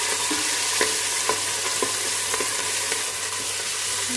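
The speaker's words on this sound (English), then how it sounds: "And fry well." Curry leaves frying in oil for a fish curry, making a loud, continuous close sizzle with a few sharp spits and crackles scattered through it.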